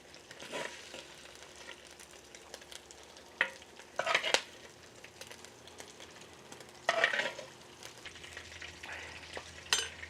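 Chorizo browning in a pan for a pot of frijoles charros gives a steady close crackling sizzle, broken by a few sharper clinks and scrapes of stirring at irregular moments.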